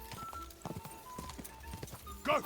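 Horse hooves clip-clop at a steady gallop in the medieval game Kingdom Come Deliverance 2, with a short whinny-like cry rising near the end over a faint background.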